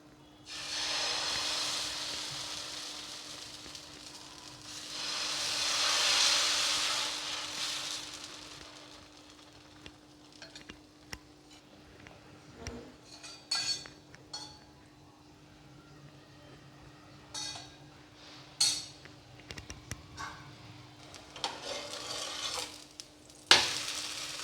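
Wheat rava and coconut dosa batter hits a hot tawa and sizzles, a loud hiss that swells and fades. Scattered spatula scrapes and taps follow over a quieter crackle, close and with no talking.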